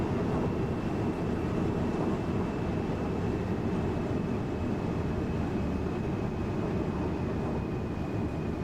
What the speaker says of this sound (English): that aircraft there is quite close, isn't it, in front of us?